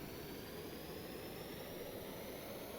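Two aircraft engines running in Stormworks, a steady continuous jet-like roar with a faint high whine on top, even and unbroken, no talk.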